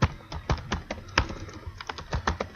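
Rapid keystrokes on a computer keyboard, a quick uneven run of close, crisp taps with short pauses between bursts.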